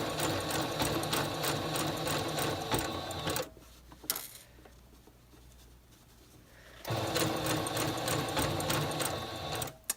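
A sewing machine runs a blind hem stitch, loud steady rapid needle clatter that stops for a few seconds of quieter handling and clicks, then resumes at full speed.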